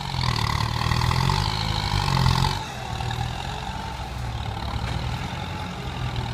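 Tractor engine working while paving an entrance, a steady mid-to-low rumble that shifts down slightly partway through, continuous and moderately near with no talking.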